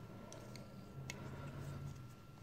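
An Extrema Ratio BF3 Dark Talon folding knife opens with a few small, crisp clicks, faint and close over a low background hum, with no voices.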